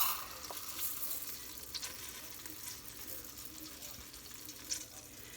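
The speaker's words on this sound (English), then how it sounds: "now I'm going to add 2 cups of long grain white rice" Long grain white rice poured into a hot pan for Mexican rice, giving a steady soft sizzle and faint grainy rustle throughout, with occasional small clicks and no talking.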